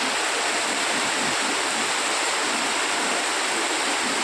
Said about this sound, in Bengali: দেখুন দেখুন রাস্তার মধ্যে জল দেখুন